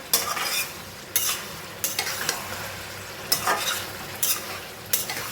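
Chicken fries in a pan with a steady sizzle as a utensil stirs it in repeated scraping strokes, several distinct bursts spaced about a second apart, close and clear with no talk.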